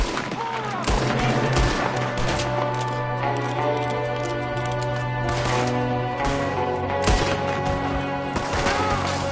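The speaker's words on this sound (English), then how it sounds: "There's another one shooting from the window!" Gunfire from a window in Red Dead Redemption 2, a dense run of sharp gunshot cracks spread across the clip over a busy game background.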